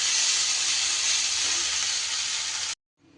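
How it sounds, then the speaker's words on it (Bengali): Spices dry-fry in a pan for a chicken curry, a loud, bright, even sizzle that runs for a few seconds and then cuts off abruptly, returning faintly at the end. "আমি সব মশলা খুব ভালো করে এইভাবে ভাজা ভাজা করে নিয়েছি"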